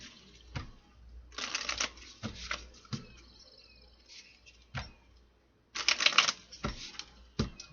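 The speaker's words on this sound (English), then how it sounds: "3 shuffles, my guys, and let's clarify these 3 messages." An oracle card deck of love cards is shuffled by hand in several papery bursts of riffling and tapping, close and fairly quiet, with pauses between shuffles and no talking.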